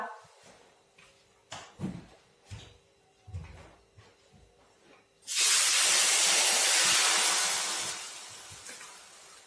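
Dhirde batter of bhagar and sabudana poured onto a hot tawa, bursting into a loud, steady sizzle partway through after quiet kitchen clatter, then slowly easing off.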